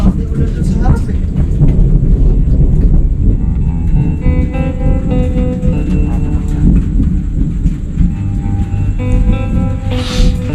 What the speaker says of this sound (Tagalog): Malakas na yung ulan dun sa harap eh.